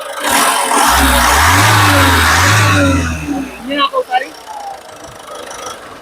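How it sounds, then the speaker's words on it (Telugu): A 2015 Ford EcoSport Titanium engine revs up loudly twice in a row, rising and falling in pitch, then settles to a quieter idle as a voice speaks briefly. "ఇంజన్ యొక్క నాయిస్ కూడా చాలా అంటే చాలా సైలెంట్గా అయితే ఉందండి"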